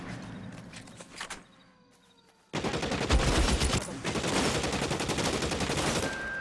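Dense bursts of gunfire in the crime video game L.A. Noire, rapid shots layered over one another, loud and sustained after a brief quieter stretch at the start.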